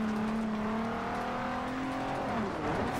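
A drifting car in the Forza Horizon 2 racing game holds a steady, loud engine drone whose pitch climbs slowly, with tyre and engine whine layered over continuous motor noise for the full stretch.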